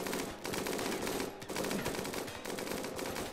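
Rapid automatic turret gunfire from the video game RimWorld rattles in dense continuous bursts, loud and unbroken apart from a brief gap.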